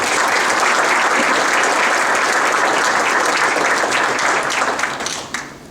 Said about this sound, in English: So we should give him a round of applause.